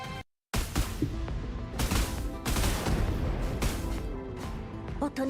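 Rapid video game gunfire rattles in dense, continuous bursts, loud and close, with sharp overlapping shots and a short silent gap near the start.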